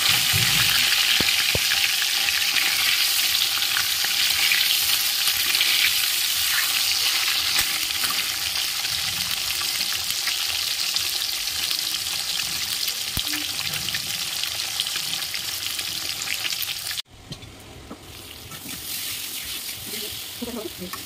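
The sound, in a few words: fish frying in a pan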